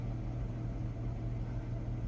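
A retired police Dodge Charger idles after a cold start, its engine giving a low, even, continuous rumble close by and alone.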